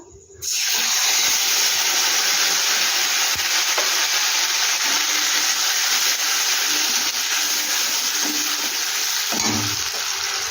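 Tomatoes fry with whole garam masala in a pan, starting abruptly into a loud, dense, unbroken sizzle and hiss, with faint occasional utensil touches underneath.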